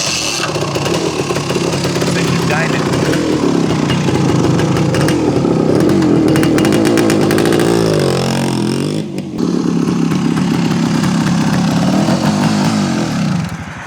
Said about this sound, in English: Nothing like a big bore two-stroke street legal Enduro.